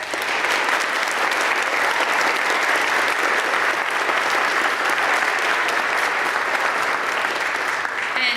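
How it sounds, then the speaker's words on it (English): Sustained applause from an audience at a middle school honor choir concert, honoring choir soloists; dense, steady clapping fills the whole stretch at even loudness, tapering slightly at the very end. "Can you please give them a round of applause?"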